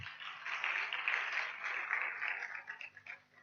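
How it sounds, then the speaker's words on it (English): An audience claps for Mr. Johnson Zioka at a national children's council congress, a steady, faint wash of applause that holds for a few seconds and then thins out toward the end. "Please give him another mighty clap"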